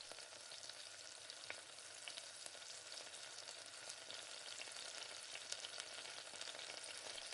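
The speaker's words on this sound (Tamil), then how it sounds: "இப்போ தக்காளி நான் வெங்காயத்தை கூட சேர்த்து நல்லா வதங்கட்டும்" Onion and tomato sautéing together in a pan with a soft, even sizzle and faint scattered crackles, steady and fairly quiet with no speech.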